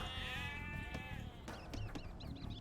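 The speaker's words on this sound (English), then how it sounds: "Sheep." A sheep in the video game Age of Empires 2 Definitive Edition bleats in a long wavering call, followed by chirpy bird-like sounds and soft clicks over a low background hum.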